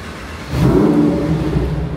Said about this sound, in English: I'll give you guys a startup to show you guys what it sounds like.